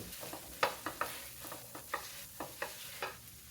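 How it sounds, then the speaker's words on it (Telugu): Finely chopped green chillies fry in a pan for garlic omelette rice, with a steady soft sizzle under repeated clinks and scrapes of a spatula stirring them, moderately quiet and close, no talking. "రెండు పచ్చిమిరపకాయలని సన్నగా కట్ చేశాను ఇవి వేసి బాగా వేయించుకుందాం"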